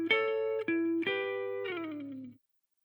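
Electric guitar playing a blues lick in E with hammers, pulls and slides, a few picked notes ending in a descending slide that rings out, clean and close before cutting to silence.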